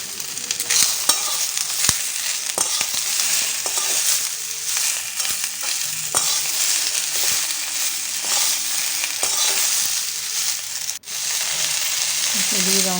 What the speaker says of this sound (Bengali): পেঁয়াজ কুচিগুলো দিয়ে আমি আবারও 3-4 মিনিট আবারও ভেজে নেব।